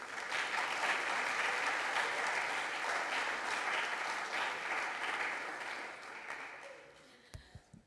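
Audience at a Hesston College gathering applauding five theater students, a dense, sustained wash of clapping that slowly thins and tapers off near the end, leaving a few scattered sounds.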